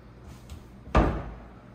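A cabinet door shuts with a single firm thump nearby, after a quiet faint rustle.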